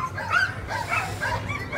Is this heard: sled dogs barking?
yes